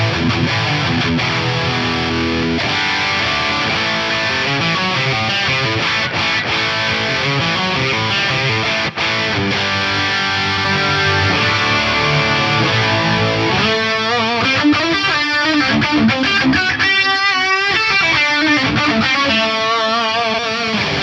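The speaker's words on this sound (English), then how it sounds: "So I could go through a couple of different amp models on here." Electric guitar played through a series of amp models on a Fractal AM4 modeler, a continuous run of distorted riffs and chords with the tone shifting between models.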